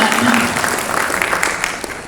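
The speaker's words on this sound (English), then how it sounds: "let's put our hands together for everybody" A loud crowd applauds at a spotlight talk event, dense clapping close and sustained throughout, with a voice briefly audible under it at the start.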